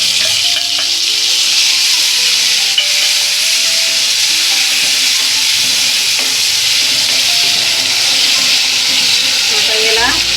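Chopped tomatoes hit hot tadka oil for a simple dal, giving a loud, steady sizzle and hiss close by, with faint stirring scrapes and a brief voice near the end.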